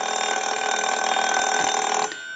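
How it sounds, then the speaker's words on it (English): A Spirit of St. Louis novelty telephone's bell rings continuously through an amplifier with a loud, metallic jangle, then cuts off abruptly near the end, leaving a faint hum. "We'll let it ring one more time."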